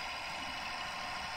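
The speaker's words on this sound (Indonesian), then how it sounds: "Lanjut di sini kita nyalakan gensetnya dulu." A generator engine runs steadily, a faint, even hum with no change across the short stretch and no voices.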